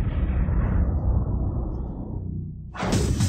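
A deep roar from explosion welding of metal deep underground in a mine fades away gradually, and then a sudden sharp, loud blast bursts in near the end.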